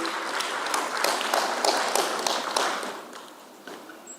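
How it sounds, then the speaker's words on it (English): Audience round of applause at a public lecture on TVET transformation in Africa, a steady patter of many hands clapping at moderate distance, thinning and fading toward the end. "Please, let's give the person a round of applause"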